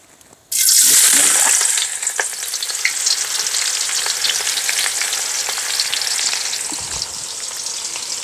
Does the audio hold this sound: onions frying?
yes